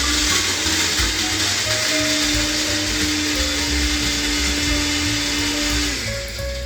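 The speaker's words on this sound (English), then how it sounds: "So it's blender time because I'm getting thirsty." A blender runs loud and steady, a continuous whirring motor whine that shifts pitch slightly near the end.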